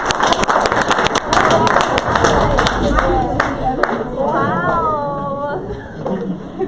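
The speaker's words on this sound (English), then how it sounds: "So clap now," An audience claps and cheers as a host invites a woman to the stage at a live event, the dense applause running throughout with voices talking over it.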